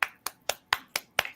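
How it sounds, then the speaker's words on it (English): Six sharp, crisp hand claps land at an even, quick beat, each a bright snap that dies away fast, close and clear with nothing else behind them. "Let me do the Sequisa clap."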